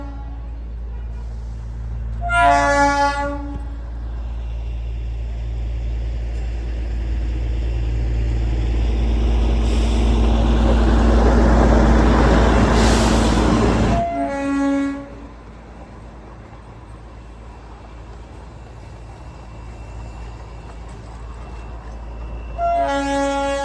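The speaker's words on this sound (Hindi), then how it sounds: "ट्रेन आ रही है, ट्रेन आ गई ट्रेन।" The Darjeeling toy train passes near Ghoom, sounding several loud, harmonic horn blasts over a deep, rising rumble of the approaching engine and carriages that builds, then falls away. Voices are faint in the background.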